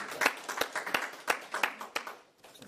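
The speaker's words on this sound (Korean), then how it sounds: "주님 앞에 감사의 박수 영광 드리겠습니다." A church congregation claps in thanks during worship, a brief burst of sharp, irregular hand claps lasting a couple of seconds before fading out.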